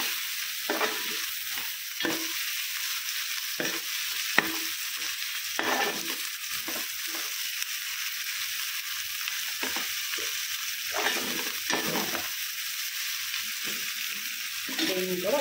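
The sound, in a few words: tomatoes frying in oil for Andhra chicken curry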